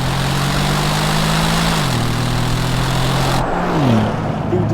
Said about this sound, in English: As soon as the V8 comes to life, it's instantly obvious just what a good sounding car this is.